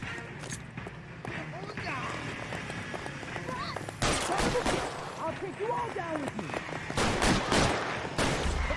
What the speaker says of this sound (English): Oh, shooting at us randomly.